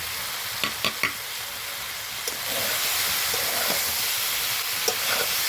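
Vegetables fry with turmeric, coriander, chilli powder and salt in a pan, a continuous close sizzle that swells partway through, with a few sharp knocks and scrapes as the spoon stirs.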